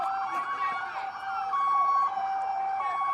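A police siren wails steadily nearby during a riot in Salt Lake City, its pitch sweeping and holding, with a faint background of traffic and distant voices.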